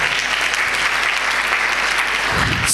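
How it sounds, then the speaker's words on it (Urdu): A church congregation claps during an Urdu-Hindi sermon, a dense, loud, sustained round of applause from many hands filling the space. "خدا دی قدرت لی تالیاں."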